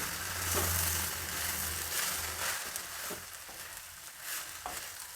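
Tomato avalakki (flattened rice) frying in a pan over a low flame, giving a steady close sizzle with occasional soft stirring scrapes and no talking.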